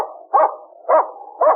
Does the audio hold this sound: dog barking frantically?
yes